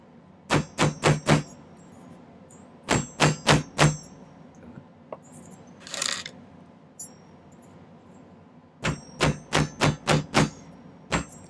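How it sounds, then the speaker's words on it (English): Three bursts of sharp, evenly spaced taps, five or six each, a hammer striking metal on a hard block, with quiet pauses between groups. "flatten these a little bit on my bench block"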